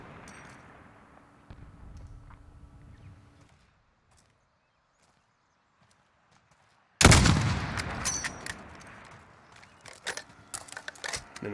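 A sudden loud gunshot in Call of Duty Modern Warfare breaks a quiet stretch, followed by further sharp shots and crackling game effects, after faint ambient sound earlier.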